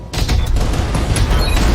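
An autocannon in the BattleTech video game fires a dense, loud burst of booming shots that runs on for nearly two seconds.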